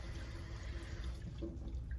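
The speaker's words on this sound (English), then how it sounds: "I can rinse it under the water without ever letting go of the handle" Tap water runs steadily into a kitchen sink as a knife is rinsed under the stream, a continuous close splashing hiss with a brief brighter gurgle near the end, no voices.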